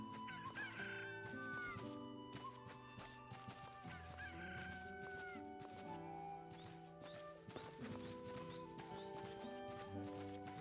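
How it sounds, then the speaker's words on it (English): Chickens clucking in the Fate/Samurai Remnant video game, mixed under a continuous busy music score, with scattered fowl calls and clip-clop hoof sounds running through the whole stretch. "Chickens."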